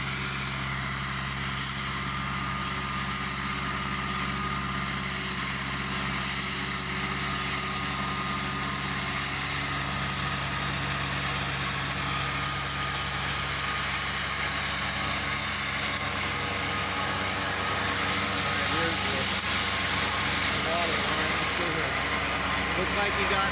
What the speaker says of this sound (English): Looks like he's mowing right along the fence right there.